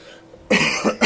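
A single sharp cough breaks the quiet, followed by a couple of short rough bursts, loud and close to the microphone during a League of Legends match broadcast.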